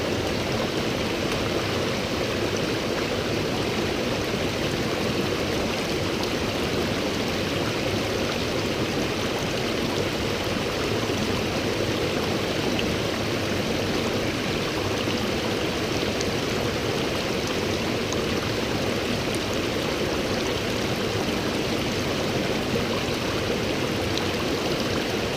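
A mountain stream near Terrace, British Columbia, rushing steadily and loudly close by, a continuous dense roar of flowing water with no pauses and no voices.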